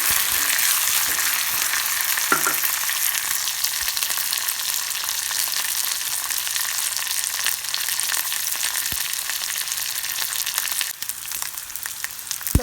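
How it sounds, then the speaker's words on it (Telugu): A tadka with asafoetida fries in a kadai for raw tamarind rice, giving a steady, close hiss and crackle of hot oil with occasional stirring clicks throughout. "The tadka is roasted well."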